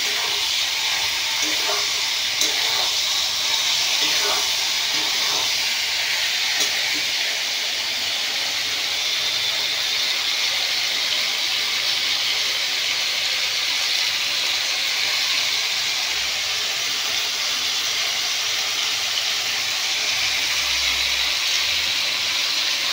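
Ridge gourd and okra sauté in a pan with a continuous, even sizzle and hiss that stays steady and close throughout, with occasional faint crackles.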